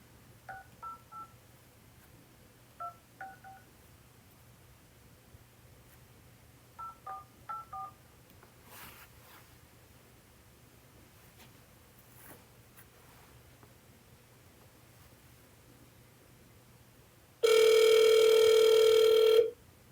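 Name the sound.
telephone dialing and ringing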